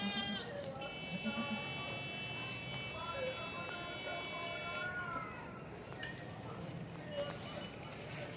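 A goat of the Rajanpuri breed bleats repeatedly on a farm amid a busy background of other livestock, hooves and someone talking in Hindi/Urdu.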